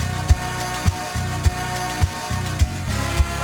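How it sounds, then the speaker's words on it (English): A Daft Punk sample, stretched to 123 BPM and pitched down eight semitones, plays as a darker, thicker electronic loop, with deep kick-like thumps pulsing about every 0.6 seconds beneath a hazy sustained layer. "Then we're bringing that down by 8 semitones"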